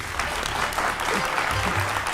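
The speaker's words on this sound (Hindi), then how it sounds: "आपके लिए तालियां एक बार जोरदार" A studio audience at a talk show on Vedanta and the Upanishads gives hearty, sustained applause, a loud, dense clapping that stays steady throughout.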